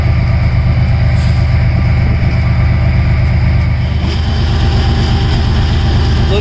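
CSX freight locomotive 5430 works hard climbing Livingston Hill, a loud, constant low diesel drone with a steady rumble and no pauses.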